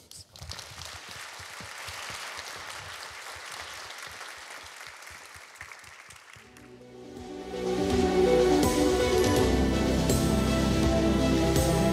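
An audience at a French talk on inaccessibility claps for an arriving performer, a thick, even wash of hands that fades as a voice begins and music swells in.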